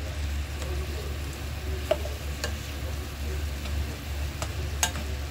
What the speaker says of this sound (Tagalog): ginigisa-gisa natin yan hanggang lumabas yung manti-mantika niya